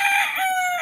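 Backyard roosters in Cavite crowing loudly and close by, one sustained crow drawn out across the short moment with another bird's call overlapping near the end.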